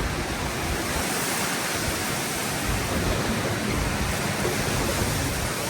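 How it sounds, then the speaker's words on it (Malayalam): Strong wind with approaching rain roars as a loud, dense, unbroken rush of broadband noise, steady throughout with no voices. "നല്ല കാറ്റും ഭയങ്കരമായിട്ട് മഴ വരുന്നുണ്ട്"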